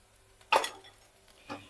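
A spoon stirs chili, garlic and ginger paste frying in a pan for crab curry, giving one sharp scraping clatter and then a softer second scrape, with a faint sizzle underneath.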